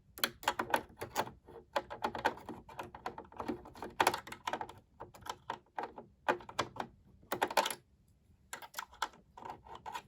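A seam ripper picks lint out of a Brother SE600 sewing machine, producing quiet, sharp plastic-and-metal clicks and taps in irregular quick bursts with brief pauses between.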